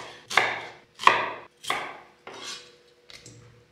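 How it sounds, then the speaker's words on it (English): Five separate knife chops through a medium onion on a chopping board, fairly close and crisp, each a sharp thud with a short crunching tail, spaced roughly evenly with brief quiet gaps between. "One medium onion diced."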